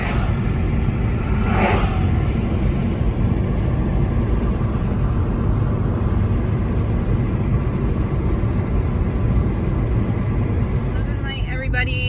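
A car drives along with a constant loud road and engine rumble from inside the vehicle, steady and unbroken throughout.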